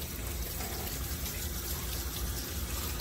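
Water sprays onto a machine blade during cleaning, a steady close hissing gush that runs without break and covers everything else.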